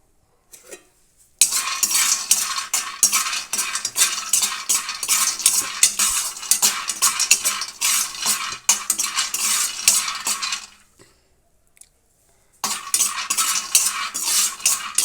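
A utensil scrapes and stirs peanuts roasting dry in a pan with a steady, gritty rattling. The stirring pauses briefly and then resumes.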